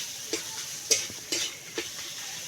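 Mashed boiled potato is stirred with onions in a pan, with four evenly spaced spatula scrapes and knocks over a soft frying sizzle.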